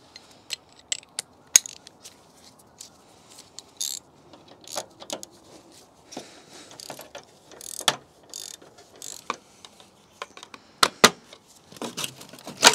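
Bolt being refitted by hand on the front end of a BMW E65/E66 7 Series during an LCI facelift conversion: quiet scattered ratchet clicks and metallic taps in short bursts, close by, with no talking.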